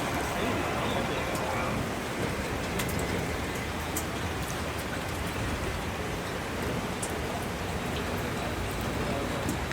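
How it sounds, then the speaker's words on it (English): Steady heavy rain pours down at Disneyland at night, a dense continuous hiss of drops on surfaces with occasional sharper taps, close and unbroken throughout. "Is that really the rain right now?"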